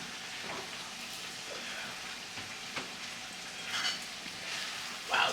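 Pasta and sauce for spaghetti and meatballs cooking in a pan, a steady soft sizzle and bubbling with a few brief clinks and stirring scrapes, moderately close and alone.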